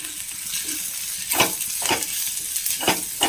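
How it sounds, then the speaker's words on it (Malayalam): Coriander and turmeric powders are stirred in hot oil in a pan for a potato and brinjal masala: a steady soft sizzle with about five distinct scraping stir strokes at a regular pace, close and clear, with no talking. "നന്നായി ഇളക്കി കൊടുക്കാം."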